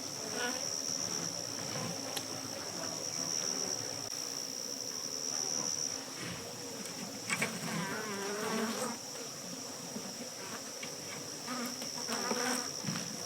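Honeybees buzz steadily in a dense, continuous drone around a caged queen, with a close, even hum and occasional louder passes near the cage.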